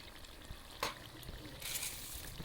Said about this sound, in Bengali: এবার আলুগুলো দিয়ে আমি ভালো করে নেড়ে চেড়ে